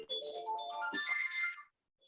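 A mobile phone rings with a tonal, melodic ringtone for about a second and a half, fairly clear and close, then cuts off abruptly into silence.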